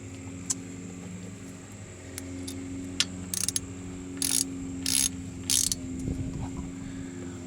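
A part being tightened by hand during an oil change on a 2014 Ford Escape 1.6, giving brief ratcheting clicks and a few short scraping bursts over a steady low engine-bay hum.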